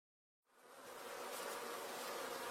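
Swarm of bees buzzing, a dense, steady drone that fades in after a brief silence and holds at a constant level, fairly faint.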